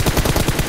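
Close, loud automatic weapon fire in the PUBG Mobile battle royale game, a fast even rattle of rounds running for the whole short moment without pause or voices.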